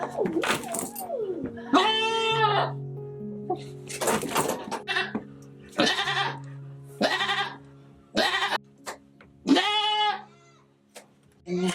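A goat bleats repeatedly during milking, loud and close, with several wavering cries spaced across the stretch amid quiet handling noise.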